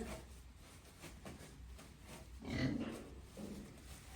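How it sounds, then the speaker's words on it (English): A farm pig grunting while getting a scratch for an itch, a few soft low grunts close by, the loudest burst near the end, over quiet barn background. "Always makes me laugh when a pig's got an itch."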